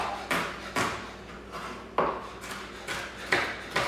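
A knife chops onion on a cutting board in about eight sharp, irregular knocks, close and crisp.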